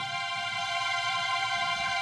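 A sustained string ensemble chord holds steady with a gentle, even vibrato, smooth and continuous throughout, with no voices.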